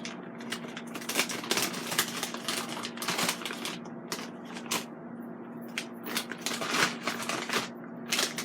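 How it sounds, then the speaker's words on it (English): Scissors cut straight across a bag of frozen French fries with quick, close crinkling snips and plastic rustles, under a steady low hum. "I'm going to cut this straight across."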